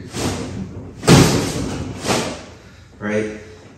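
Karate punches striking a punching bag during home training, landing as three or four heavy thuds about a second apart, close and fairly loud, with someone talking throughout.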